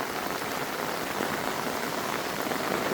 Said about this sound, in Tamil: இப்போ பாருங்க இப்படி மழை போய் அடிச்சு ஊற்றுதுன்னு சொல்லி